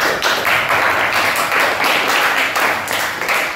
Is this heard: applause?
yes